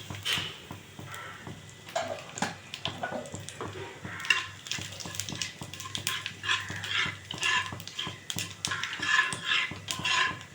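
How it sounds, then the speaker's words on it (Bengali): Carom seeds and nigella seeds crackle faintly in oil in a frying pan, with soft clinks and scrapes of a utensil against the pan. The sound is quiet and close, with no talking. "একটু জোয়ান আর একটু কালো জিরে নিয়ে নিয়েছি তেলে দিয়ে দিচ্ছি"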